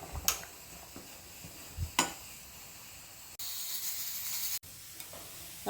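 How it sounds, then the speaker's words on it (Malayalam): Hot mustard seed tempering is poured into a drumstick curry in a Kerala kitchen, giving one sharp, loud sizzle burst of about a second among scattered clicks and quiet pauses. "നമുക്കിനി ഇതിനകത്തോട്ട് കടുക് വറുത്തിടാം."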